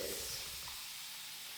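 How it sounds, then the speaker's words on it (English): A spray bottle mists water onto low-porosity type 4 hair in one short hissing burst that quickly fades, close and fairly soft, with no voices. "I'm gonna spray some water"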